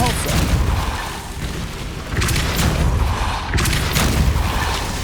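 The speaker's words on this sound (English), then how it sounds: "Depulso." A Depulso force spell cast in Hogwarts Legacy, heard as a few heavy booming thumps with bright bursts of debris, rising from a dense noisy game background.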